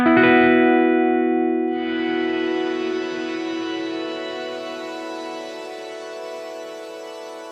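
Electric guitar chord run through the Headrush Gigboard's particle verb effect, ringing out loud with a shimmering, glassy reverb tail that swells in on a second strum and sustains evenly, with no talking.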